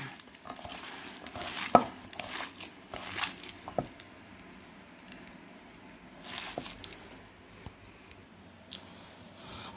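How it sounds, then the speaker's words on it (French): Hand-mixing minced meat with chopped, spiced onions and a little olive oil into an even blend: soft squishing and sticky stirring sounds in irregular bursts, fairly quiet and close, with no talking. "Ajoutez un tout petit peu d'huile d'olive et mélangez pour obtenir un mélange homogène"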